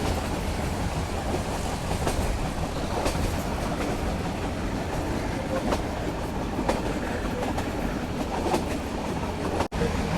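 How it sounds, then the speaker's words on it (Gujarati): Meter gauge passenger train running between Junagadh and Delvada, heard from on board as a continuous rumble with faint rhythmic clicks of wheels over rail joints and no talking. "આપણી ટ્રેન ચાલી રહી છે"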